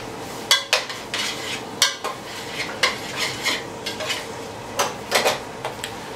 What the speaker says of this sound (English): So I need to stir this.